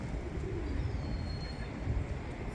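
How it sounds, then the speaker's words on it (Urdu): Pigeons cooing in a park at Grønland in Oslo, soft low murmuring coos that sit faintly within a steady wash of outdoor background noise. "اور یہ کبوتر آپ دیکھ رہے ہیں"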